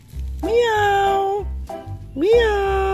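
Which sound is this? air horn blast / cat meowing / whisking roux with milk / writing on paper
cat meowing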